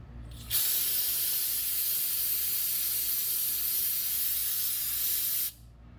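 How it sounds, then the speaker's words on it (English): A steady, loud brake cleaner aerosol spray hisses continuously for about five seconds, starting and stopping abruptly, during a Nissan Pathfinder R50 front differential service. "we're going to spray this with some brake clean"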